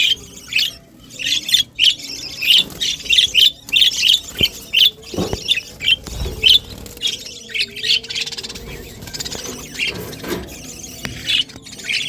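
A bird colony's adults and chicks squawk and chirp at dusk in busy, overlapping bursts, with high-pitched calls from young birds mixed among them.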